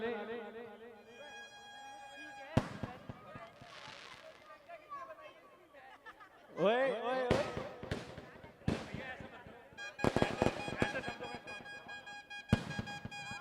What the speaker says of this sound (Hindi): थोड़ा आप आतिशबाजी प्रारंभ होने वाली है।